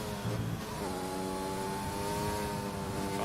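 Race car engine in a racing video game at the Japanese Grand Prix, throttle feathered through the S curves: a steady, loud harmonic engine whine that rises and holds as the car accelerates, with no talk.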